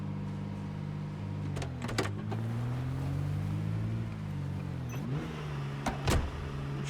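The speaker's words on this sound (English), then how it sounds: "this truck is very loud." A truck engine in the video game Project Zomboid drones steadily and loudly throughout, its pitch rising and falling as it revs, with a few brief clunks over the top.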